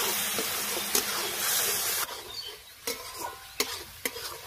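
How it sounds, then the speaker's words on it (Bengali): Spice masala of Kashmiri chilli powder, turmeric and salt with a little water being stir-fried in a pan for jackfruit-prawn curry: a steady sizzle with repeated sharp scraping strokes of a spatula, close and fairly loud. "অল্প জল দিয়ে মশলাটা ভালো করে কষিয়ে নেব।"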